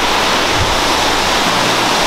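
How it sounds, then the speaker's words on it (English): A huge waterfall at EcoPark La Igualdad in Guatemala, a loud, close, steady roar of falling water with no break. "This is the biggest waterfall I have ever seen."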